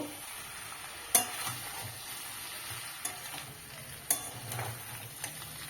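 Fried cauliflower is stir-fried in a pan with soybean chunks and potato: a soft, steady sizzle with a few sharp clinks and scrapes of the spoon, close by and without speech.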